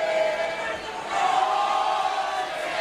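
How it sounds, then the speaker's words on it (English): Western Bulldogs cheer squad roaring in a stadium during an AFL elimination final against West Coast, a loud, sustained crowd wash that swells after the first second and holds steady to the end. "There's that big cheer squad of the Bulldogs"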